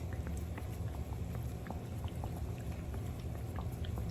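Steady bubbling and crackling of Caribbean bakes frying in hot oil in a frying pan, a dense, even sizzle with scattered pops throughout.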